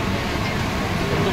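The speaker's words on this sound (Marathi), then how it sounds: "आली फटाफट आली गाडी, फास्ट आली गाडी." A train rolls in near Panvel on a Mumbai-bound journey, a loud, continuous rumble of wheels and carriages filling the whole stretch, with no voices over it.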